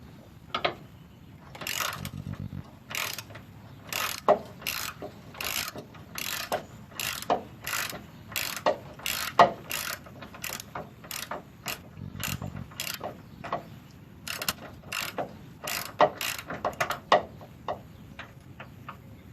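A ratchet wrench loosens the nut on the front eye bolt of a rear leaf spring on a 1955 Cadillac Coupe de Ville, giving close, crisp clicking runs in repeated strokes with brief pauses between them.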